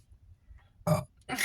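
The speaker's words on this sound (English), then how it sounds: "that just made me burp" A short, close burp is followed by another throaty burst against a near-silent background.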